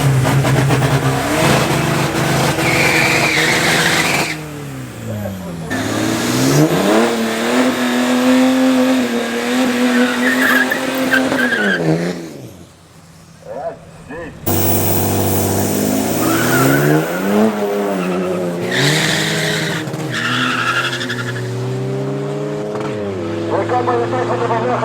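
TDI diesel cars drag racing at a raceway, engines revving hard and rising through gears, loud and sustained with a brief dip before another car roars past.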